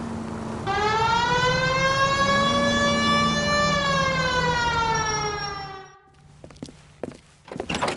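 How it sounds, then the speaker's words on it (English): A police car siren from the video game L.A. Noire wails loud and close in one long steady tone that dips in pitch, then cuts off into brief knocks and movement sounds. "Hit the siren."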